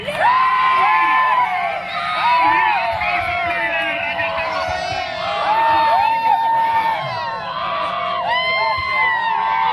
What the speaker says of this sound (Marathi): सिंधुदुर्ग जिल्ह्यातील क्रिकेट प्रेमींनी मैदान डोक्यावर घेतलाय.